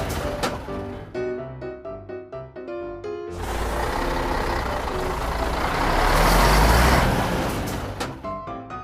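A sand truck pulls up at a checkpoint, with tonal engine and horn notes giving way to a long, loud hiss of air brakes and rumbling that swells and then fades, heard without speech.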